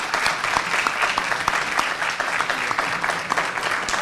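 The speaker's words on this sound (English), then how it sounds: "we should give a big round of applause to all the speakers that we had" Applause for the speakers at the close of a session at a global forum on modern direct democracy: a steady, moderately loud wash of clapping with distinct individual claps popping out.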